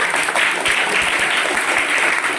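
Audience at an outdoor magic show clapping in a dense, steady burst of applause, many hands together at close range with no voices over it.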